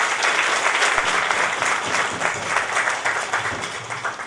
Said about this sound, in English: I request you all kindly give the huge round of applause for